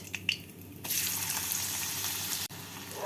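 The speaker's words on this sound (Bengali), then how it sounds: "তেলটা গরম হয়ে গেছে তেলের মধ্যে আমি দিয়ে দিচ্ছি দুটো তেজপাতা আর কুচনো পেঁয়াজ" Bay leaves and chopped onion dropped into hot white oil sizzle loudly after a few small clinks, a steady frying hiss that continues with a brief break partway through.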